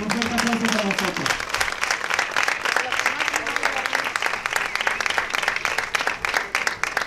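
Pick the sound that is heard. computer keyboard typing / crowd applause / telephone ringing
crowd applause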